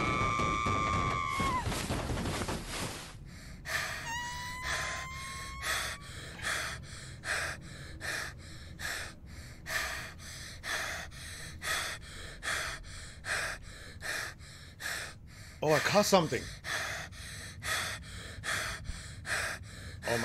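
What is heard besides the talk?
heavy breathing of a creature in horror video game Find Yourself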